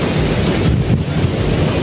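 Floodwater of the Sapta Koshi river rushes past in a loud, steady broadband roar, continuous and close, with wind buffeting the microphone.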